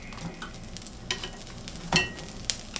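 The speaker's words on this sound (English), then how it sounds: "you can see that pan's already starting to sizzle" Faint, steady sizzling of beef in a hot pan for stir fry, with occasional scraping and stirring clicks, soft and close.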